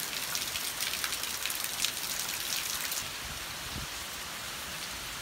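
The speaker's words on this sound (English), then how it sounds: "Just non-stop rain here." Heavy non-stop rain pouring in Atlanta, a loud, dense wash of drops splashing on surfaces, steady throughout with a slight drop in the bright spatter partway through and no voices.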